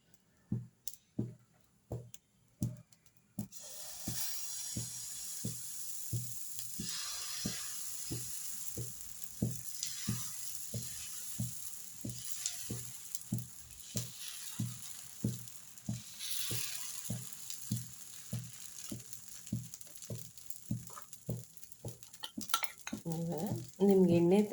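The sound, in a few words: tomato dosa batter sizzling as it is poured on hot pan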